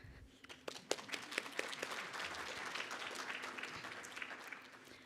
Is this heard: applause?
yes